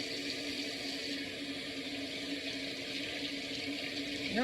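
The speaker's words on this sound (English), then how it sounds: "let me drain the water out some more" Water drains from a pot in a kitchen sink with a steady, fairly quiet rushing gurgle that holds evenly throughout and ends in a brief splash.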